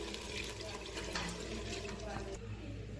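Chicken soup pours into washed rice and coriander in a pressure cooker, a steady watery splash and gurgle with a faint voice underneath.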